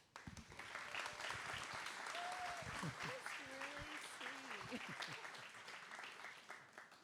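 An audience at a photography festival speaker event breaks into sustained applause welcoming a speaker, a dense steady wash of clapping from many hands, with a few faint voices underneath.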